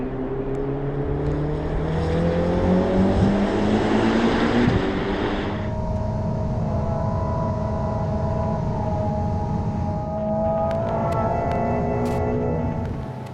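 A Ferrari SF90 Stradale Assetto Fiorano, a V8 plug-in hybrid with an 8-speed gearbox, decelerating: a loud, droning engine note falls in pitch, then settles into a steadier lower hum with a brief shift near the end.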